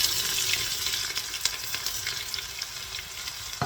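Fried garnish for beef and prawn laksa sizzles steadily in hot oil, a close, even crackle with small pops and no voices.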